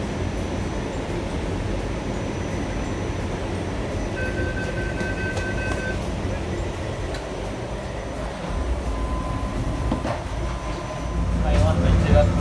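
Continuous low rumble and rattle of a Taipei metro train moving through a tunnel, with occasional squeals and clanks, growing louder toward the end; faint voices underneath.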